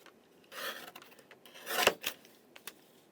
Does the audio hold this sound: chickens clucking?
no